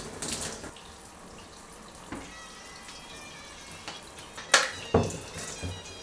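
Water brushed onto watercolor paper being stretched and re-wet, soft wet swishes and drips punctuated by a few sharper splashing strokes, close and otherwise quiet.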